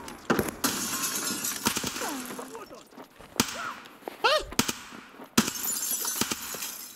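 Several sharp, cracking gunshots ring out at irregular intervals in a shooter video game, mixed with other game noises while people talk.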